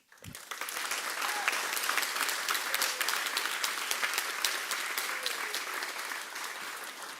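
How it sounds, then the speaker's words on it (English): A crowd gives sustained applause for the graduating class of 2022 at a commencement ceremony, the clapping rising quickly after a soft thump and continuing steadily to the end. "Let's give a round of applause to the class of 2022"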